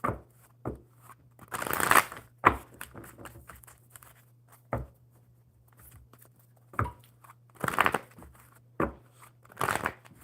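Playing cards are shuffled in several separate bursts, with quick riffling and sharp taps and snaps spaced irregularly between quieter pauses, close to the microphone.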